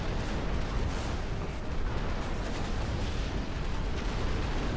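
Mortar artillery fire in the real-time strategy game Ashes of the Singularity 2 makes a continuous, dense rumble of overlapping distant blasts and crackling impacts. It holds steady throughout with no talk.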